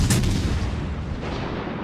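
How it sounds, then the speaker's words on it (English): The Japanese tier 7 cruiser Suzuya firing a gun salvo in World of Warships Legends: a heavy booming blast at the start that rolls off into a fading low rumble. "It's looking like another good salvo on the Baltimore."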